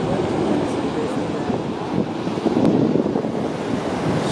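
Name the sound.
Niagara Falls waterfall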